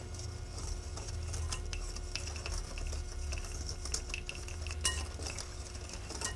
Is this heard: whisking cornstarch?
yes